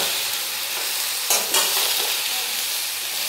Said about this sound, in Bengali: দিয়ে ভালো করে সবজির সঙ্গে মিশিয়ে নেব।